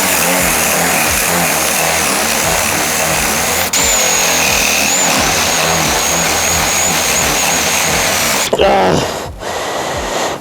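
A Milwaukee M18 CBLPD-422C impact drill bores into oak, a loud, sustained whining grind with a rhythmic chatter underneath, briefly interrupted and then cutting off near the end.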